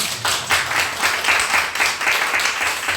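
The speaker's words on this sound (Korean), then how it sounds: "우리 축하하는 의미로 박수 한번 우리 할까요?" A church congregation applauds at a Sunday worship service, a steady wash of many hands clapping for about three seconds, fairly loud and close, with no talk over it.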